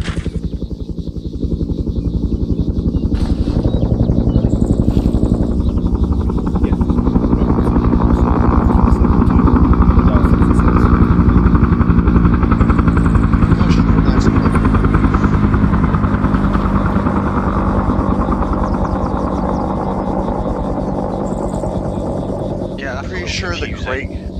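A steady, loud helicopter rotor drone in the video game ArmA 3 fills the whole stretch, a constant thumping whir that swells slightly in the middle, with occasional faint voices underneath.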